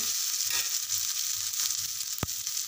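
Tomato and spices sauté in a pan for a spicy Marathi-style dish, a soft continuous sizzle with occasional stirring scrapes and one sharp clink of the spoon.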